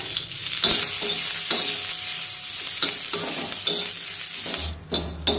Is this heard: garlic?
yes